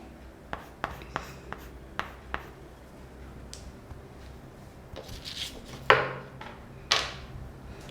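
Pen or chalk strokes during an online English class come as a row of sharp, evenly spaced taps, then looser scratchy rubbing and a couple of louder knocks, close and alone without talk.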